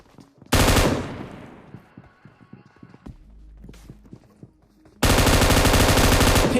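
An M249 machine gun firing in a video game, two loud sustained bursts of rapid automatic gunfire close up, separated by quieter game sounds with footsteps and faint clatter.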